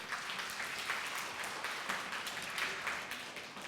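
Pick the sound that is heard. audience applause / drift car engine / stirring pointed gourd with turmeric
audience applause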